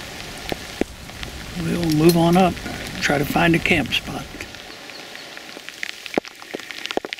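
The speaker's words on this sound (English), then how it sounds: "We've been riding in a little down shower, not a big one, just kind of heavy sprinkles" Light rain in heavy sprinkles patters steadily on surfaces outdoors on a rainy ride, a soft continuous hiss with scattered drops, while someone talks briefly over it.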